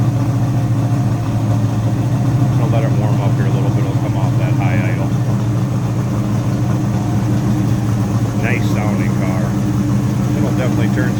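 A built 383 V8 in a 1969 Dodge Charger idles high while warming up with the choke, a steady loud rumble running throughout with someone talking over it.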